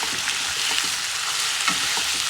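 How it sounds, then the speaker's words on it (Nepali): Chopped chicken hits browned onions in a hot pan, setting off a loud, continuous sizzle with intermittent stirring scrapes close by. "अब मैले यसमा अघि काटेर राखेको चिकन हाल्दैछु"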